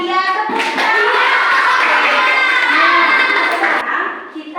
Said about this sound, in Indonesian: Tepuk tangan buat teman yang berani ke depan.